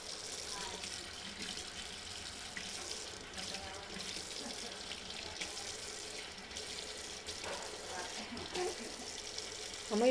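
Water runs from a tap into a sink in a steady, soft, continuous stream, with quiet voices in the background and faint household clatter near the end.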